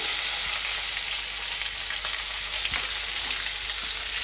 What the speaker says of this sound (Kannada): ಇವಾಗ ಈರುಳ್ಳಿದು ಹಸಿ ವಾಸಿ ಹೋಗಿ ಒಂದು ಸ್ವಲ್ಪ ಕಲರ್ ಚೇಂಜ್ ಆಗೋವರೆಗೂ ಸಹ ಫ್ರೈ ಮಾಡ್ಕೊಳ್ತೀನಿ